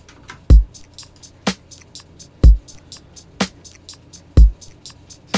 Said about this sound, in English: So let's hear the drums all together, shall we?